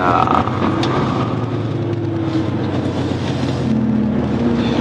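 Heavy truck engine droning steadily throughout a test drive, a loud low rumble with shifting harmonic tones as it runs under load, no talk heard.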